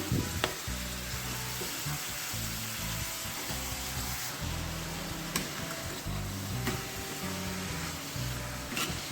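Shredded cabbage with tomato, spring onion and grated carrot frying in a pan, giving a steady, close sizzle broken by occasional scraping stir strokes, with no voices.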